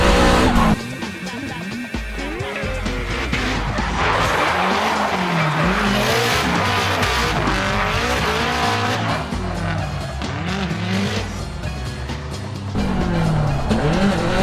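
A car driven hard around Owara Circuit, engine loud and revving continuously close by while tires skid and squeal through corners, with no talking.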